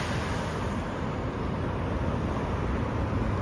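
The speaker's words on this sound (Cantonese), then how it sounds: "嶺南大道南嘅車流啊" A dense, continuous roar of road traffic, steady and fairly loud, with no distinct horns or voices standing out.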